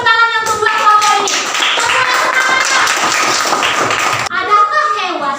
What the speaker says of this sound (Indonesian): Tepuk dulu tangan yang kedua kelompok ini.